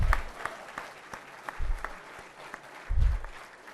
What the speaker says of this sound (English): Please give the youth a round of applause.